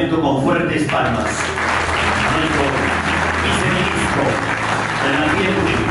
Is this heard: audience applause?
yes